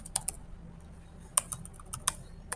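Fingers typing an SQL query on a computer keyboard, a few quick, crisp keystrokes in small bursts, close and fairly quiet against a faint background hum.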